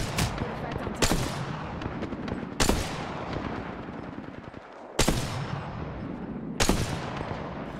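Gunfire in Apex Legends: several sharp, loud single shots spaced a second or two apart, each with a ringing tail, over a busy game background with some voice.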